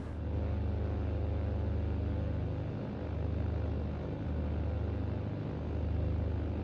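A Britten-Norman Islander propeller aircraft in a flight simulator, taxiing toward the runway with a steady, loud droning engine hum and a low pulsing throb, no voices.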